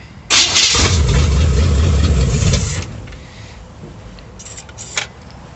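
A cold 1937 Dodge engine fitted with a Holley 650 carburetor cranks and fires with a loud roar, then settles after a few seconds into a quieter, slightly uneven idle with brief revs.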